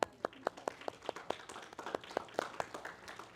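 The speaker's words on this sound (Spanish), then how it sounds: "Un aplauso al hermano entonces, porque preguntó." Steady hand clapping, a dozen or so sharp claps in a quick, even rhythm, with a few people joining in softly toward the end.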